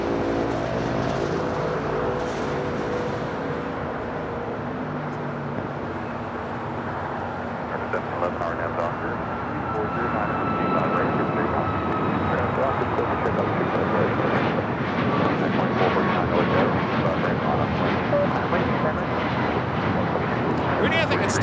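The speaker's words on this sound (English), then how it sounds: "Next takeoff here on the south side." An airliner takes off from the south side at LAX, its jet engines building into a broad roar that swells and stays loud for about twenty seconds, with people talking over it.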